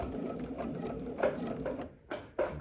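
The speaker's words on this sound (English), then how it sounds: "So now I can sew this in place." A sewing machine runs a straight stitch across swimsuit fabric, a steady close whir with a brief pause near the end before it picks up again, and no one speaks.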